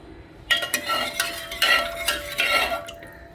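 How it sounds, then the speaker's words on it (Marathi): A spoon stirs moong dal khichdi with water and salt in a metal pot, making several scraping, clinking strokes against the sides, close and fairly loud, with no talk. "मिक्स करू"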